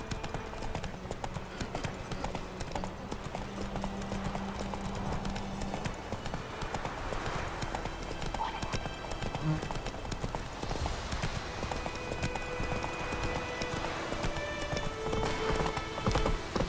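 Steady clip-clop of horse hooves in The Witcher 3 video game, a continuous trotting rhythm close by under ambient game sound and low music, with a brief whinny-like tone partway through.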